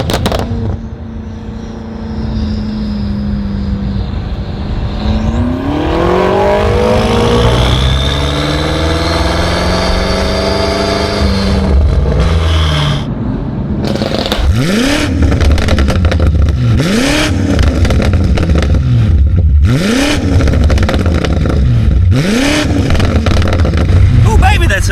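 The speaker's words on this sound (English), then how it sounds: "The exhaust is unbelievable." A BMW M8 Competition with a Revolution Raceworks exhaust idles, then revs in long climbing sweeps followed by a series of sharp, repeated blips, loud and close, with a voice briefly audible under it.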